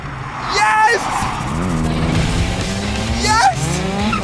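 A small 1990s Toyota Starlet hatchback revs hard and skids around a race track, engine whining through gear changes with tires squealing, loud and close.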